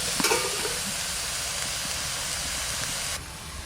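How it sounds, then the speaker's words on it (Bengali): Leafy greens (bathua/beto shak) frying in a pan in a home kitchen give a steady, close hiss and sizzle with faint stirring scrapes, continuous until it drops slightly near the end. "এই দেখেন শাক ভাজা হয়ে গেছে,"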